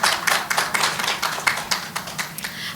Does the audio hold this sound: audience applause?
yes